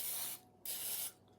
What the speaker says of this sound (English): I'm just gonna spray